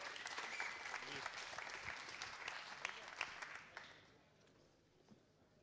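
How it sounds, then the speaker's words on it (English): Applause from an audience at a tech camp event, a dense steady clapping that rolls on loud for about four seconds and then quickly thins out to a few scattered claps. "A big applause for him."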